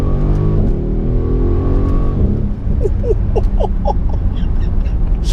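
A Mercedes GLE63 S AMG performance SUV pulls hard in second gear, a deep loud engine roar climbing steadily in pitch, with chirping squeaks from the cabin or tyres scattered over the second half.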